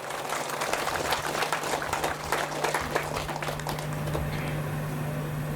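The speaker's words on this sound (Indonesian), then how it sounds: "mari kita memberikan tepuk tangan yang meriah" Crowd applause at a regency head's official inauguration ceremony for village support facilities, a dense, steady wash of many hands clapping that gradually thins out, heard from a distance.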